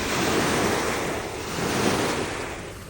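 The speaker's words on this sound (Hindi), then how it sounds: "कराची की लहरें।" Waves washing along the water at a riverside campsite on the Rhine, a broad steady rushing wash that swells and eases gently, mixed with wind buffeting the microphone and no voices.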